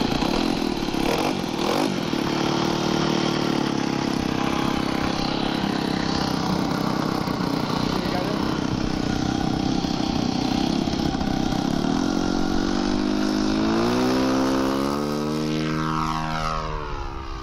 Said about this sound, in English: The engine's popping a little bit, but that's the rich low end.